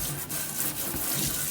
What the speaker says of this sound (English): So I'm just spraying it down.